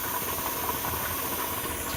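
Steady loud hiss of steam venting from a pressure canner processing grouse in bruschetta sauce, continuous broadband rush with no talk over it.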